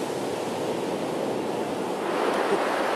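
Steady ocean surf rolls in continuously at a Jersey Shore beach, a broad, even wash of breaking waves with light wind, swelling slightly louder near the end and with no voices.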